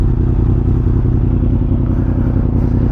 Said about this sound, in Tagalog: Pakinggan natin ang MT-10 ni Kuya Byong. CP4 to. Crossplane engine.